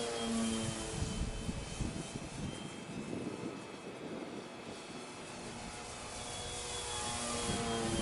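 F4B model aircraft flying straight and level laps, its engine droning continuously with a buzzing whine that swells as it passes nearer and fades slightly as it moves away, no talking.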